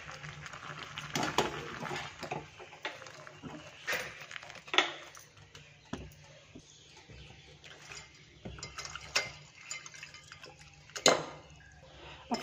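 Blanched spinach is lifted into a bowl of ice-cold water in a home kitchen while making palak paneer, with intermittent clinks of utensils, soft splashes and scattered knocks, some sharp, against quiet gaps.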